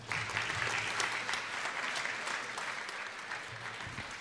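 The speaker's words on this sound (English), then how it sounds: "I think you need another round of applause" Applause at a Parliament House Christmas Giving Tree lighting ceremony, a steady crowd clapping for a school group, fairly distant and soft, sustained for several seconds.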